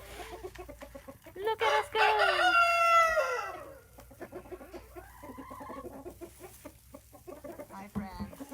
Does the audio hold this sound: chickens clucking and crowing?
yes